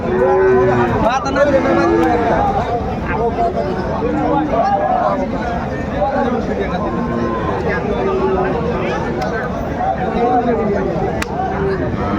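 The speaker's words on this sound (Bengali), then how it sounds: "দেখছিলাম গরুগুলো কিনছেন হেলাল ভাই" Cattle, including Sahiwal bulls and calves, moo repeatedly at a busy livestock market in Kurigram, the lowing carrying over steady crowd babble and nearby voices throughout.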